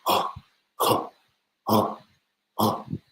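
A voice imitates a dog's hacking cough, four short raspy bursts spaced about a second apart, close and fairly loud with no talking.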